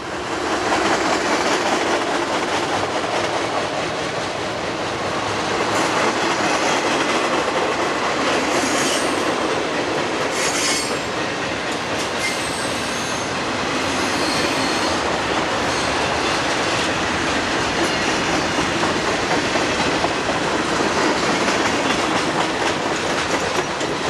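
A westbound train running through Richland, with continuous loud wheel and rail noise, rhythmic clacking and occasional high wheel squeals, close and steady for the whole stretch.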